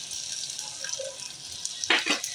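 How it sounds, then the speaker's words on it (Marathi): Tamarind-jaggery water is poured into okra curry frying in a pan: a faint steady sizzle, then a sudden short splash and a louder hiss as the liquid hits the hot oil. "आता मी ह्याच्यामध्ये ना हे चिंचगुळाचं कोळ घालते"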